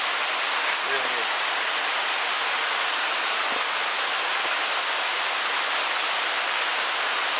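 A small waterfall in Shenandoah National Park rushes in a steady, dense hiss, close and unbroken throughout, with a faint brief voice early on.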